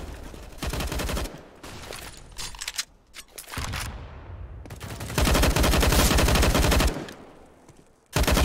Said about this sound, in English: Shots being traded through the smoke.